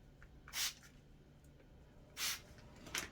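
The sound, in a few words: spraying flocking snow onto Christmas tree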